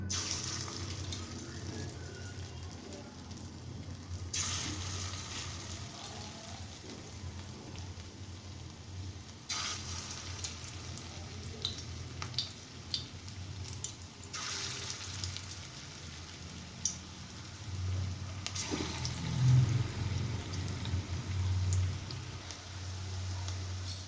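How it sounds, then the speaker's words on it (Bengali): Banana flower fritters fry in a wok of hot oil, a steady hiss with bubbling and crackle that swells in several bursts as the battered pieces drop in, close and fairly loud, with no talk. "তেলটা একটু তেতেও গেছে এবার আমি বড়াগুলো এর মধ্যে আস্তে আস্তে ছেড়ে দেবো"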